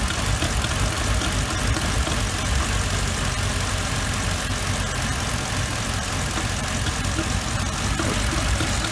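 A Mercedes engine with a faulty purge valve idles steadily with a low, rough rumble that stays constant throughout, with no voices.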